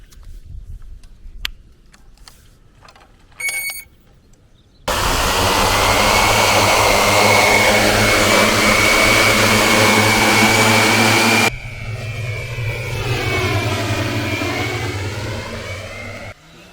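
An 18-inch hexacopter drone's motors run under a hanging test load of about 3.6 to 4 kg. After a quiet start, a loud, steady roar with a high whine cuts in abruptly, then a softer whir rises and falls in pitch.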